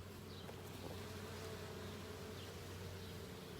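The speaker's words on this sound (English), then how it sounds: "Look at all the bees. Can you hear them?" A steady, dense buzzing of many honey bees at the hive, continuous and close, with no voices.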